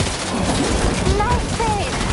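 Gunfire in the video game Death Stranding 2 rattles as a dense, continuous burst lasting a couple of seconds, loud and close, with faint voices mixed underneath.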